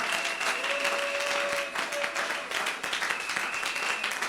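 Church congregation at a Sunday service applauding in praise, sustained dense clapping from many hands filling the room, loud and continuous.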